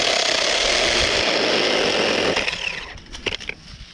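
A small handheld mini chainsaw cuts through wood, its steady high-revving buzz running loud and close for more than two seconds before the engine drops off into a few short, uneven throttle blips.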